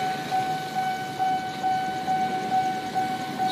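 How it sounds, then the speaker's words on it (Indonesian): A steady rumbling train passes nearby at Pondok Jati, Jakarta, with a sustained tonal hum, background noise continuous throughout, no voices. "Masuk kereta ke-6."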